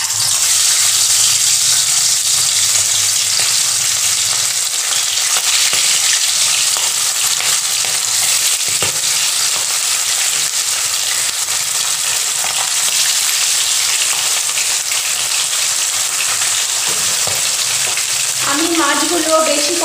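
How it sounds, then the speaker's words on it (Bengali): Hilsa fish pieces frying in hot oil in a wok give a loud, steady sizzle with dense crackling throughout, and a brief stirring or clinking near the end. "এবার আমি মাছগুলো একটু একটু করে ভেজে নেব।"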